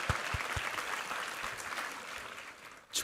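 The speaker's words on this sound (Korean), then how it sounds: "우리 하나님께 감사와 영광의 박수 올려드리겠습니다." A church congregation claps together in thanks during a Sunday worship service, dense and steady applause filling the sanctuary for about three seconds, with a few louder thumps early on and a brief swell at the end.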